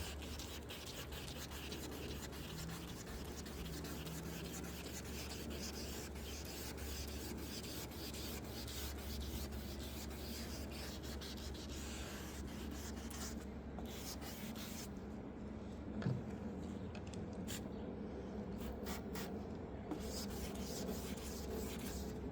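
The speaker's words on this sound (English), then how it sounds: "All you're doing is wet sanding this." Steady, continuous wet sanding of a Honda Civic headlight, a constant close-up scrubbing hiss with no voices.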